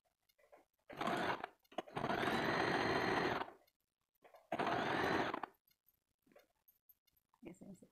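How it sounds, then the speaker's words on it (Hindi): A sewing machine stitches a blouse belt strip in three loud, steady runs of whirring stitching, separated by quiet pauses with faint handling noises. "अब हम बेल्ट पट्टी की सिलाई करते हैं।"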